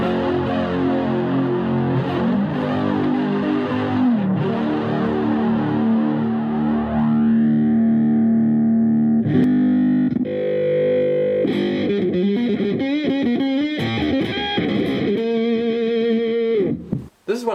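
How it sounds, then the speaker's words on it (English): An electric guitar plays through a Korg AX3000G multi-effects unit, with modulation layered on pre-effects giving warbling, distorted, shifting tones. Sustained chords give way to choppy, rapidly changing phrases, loud and close, with no talking. "Modulation effects works well with pre-effects because it gives you a whole second layer of modulation."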